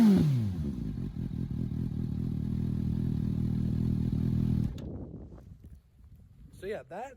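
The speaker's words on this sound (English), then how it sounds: "So yeah, that is the exhaust." A 2019 Suzuki GSX-S750 motorcycle with the exhaust baffle removed idles with a loud, steady, throaty rumble close by for several seconds before cutting off, followed by a brief voice.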